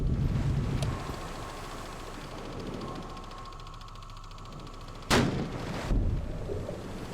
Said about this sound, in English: See the depth charge going off the back